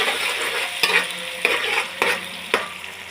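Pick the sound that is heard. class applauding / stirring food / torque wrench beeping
stirring food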